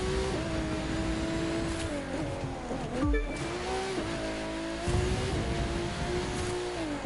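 A car in the racing video game The Crew 2 drives and drifts. A continuous engine roar rises and falls with revving, briefly dips, and carries tire squeal, loud and steady throughout.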